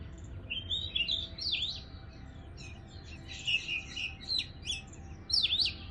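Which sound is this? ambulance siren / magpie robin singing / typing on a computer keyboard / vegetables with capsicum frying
magpie robin singing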